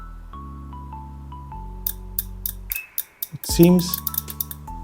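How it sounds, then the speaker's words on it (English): A series of small, sharp clicks from a relay in a Volvo S60 door lock module sounds close by, irregularly spaced, over steady electronic multimeter tones and beeps, with a brief spoken remark. "the relay is clicking and the multimeter beeps only sometimes"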